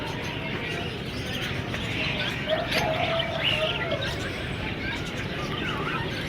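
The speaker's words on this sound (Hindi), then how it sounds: "ये लबर्ड है, लबर्ड।" Lovebirds at a busy bird market give faint chirps and tweets over a steady crowd hum, with voices talking in the background.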